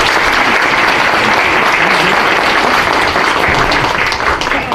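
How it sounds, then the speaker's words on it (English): Loud, dense applause from the audience at a mayoral candidate forum fills the whole stretch, close and continuous, with no talking. "let's give all the candidates one more round of applause"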